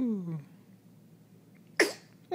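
A baby's small sneeze bursts out sharply and close, followed moments later by the start of a second one, after an adult's soft cooing voice and a quiet pause.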